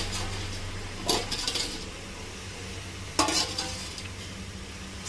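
Squid masala in a frying pan is stirred with a utensil, giving a soft steady sizzle and two bursts of scraping clatter against the pan, close by.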